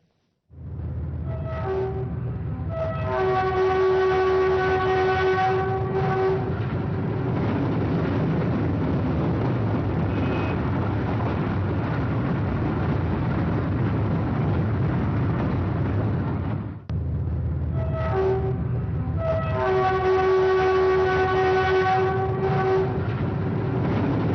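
A moving train passes on a railway track, sounding its horn in long sustained blasts at the start and again near the end, with a loud continuous rumble of wheels and carriages throughout and no talk.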